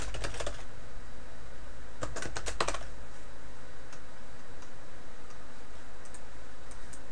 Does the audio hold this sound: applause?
no